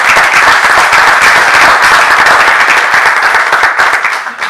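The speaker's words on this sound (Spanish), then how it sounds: "un aplauso para Lucho" An audience at a lecture on Peronist philosophy and doctrine claps loudly and steadily, a dense burst of applause filling the room before tapering off at the end.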